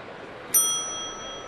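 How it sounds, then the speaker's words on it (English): A single bright bell ding rings out once during a televised San Francisco at Arizona baseball game, sharp at the strike and then ringing on with a clear decay over the low hum of the crowd. "Sure glad there was a bell there."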